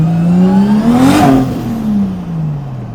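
A turbocharged 2JZ engine in a Toyota JZX100 revs once, sweeping up to a peak and winding back down with a whirring tone, loud and close.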